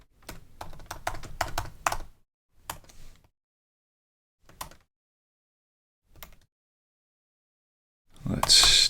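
Close computer keyboard typing starts as a quick burst of clattering keystrokes, then trails off into a few isolated taps separated by silence, ending with a louder clatter.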